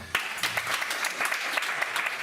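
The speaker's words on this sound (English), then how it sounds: "Give me a round of applause if you know the American comedian Louis C.K." A stand-up comedy audience claps and applauds steadily, a close, dense burst of clapping lasting a couple of seconds.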